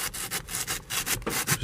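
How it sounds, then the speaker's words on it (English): Hand sanding a painted paddle shifter on an Infiniti G37xS sedan with 240-grit sandpaper, giving quick, close back-and-forth rubbing strokes in a steady rhythm. "All right, so I'm sanding it now and just going through it."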